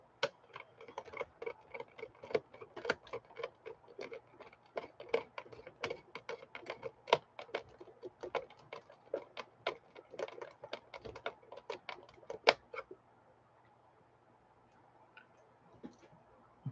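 Screws go into a Robosapien V2 robot during a repair, making quick irregular clicks and ticks of a screwdriver turning in plastic, close and dense for about twelve seconds before it quiets.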